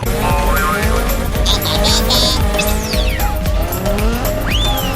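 A car engine roars continuously with squealing tires and revving, loud and close, like a racing game, with no voices.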